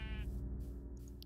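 Sheep in the Minecraft video game giving a short bleat, faint and brief over a quiet background of game sounds, with no talking.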